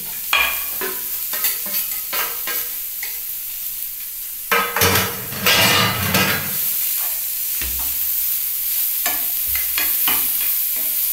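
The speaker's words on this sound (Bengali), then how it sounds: "এটা একটু হালকা আমি তেলে নেড়ে নিলাম" Vegetable momo filling with chopped onion, pepper, chaat masala and black salt stirred in hot oil in a pan: repeated scraping strokes over a steady sizzle, louder in the middle, no voices.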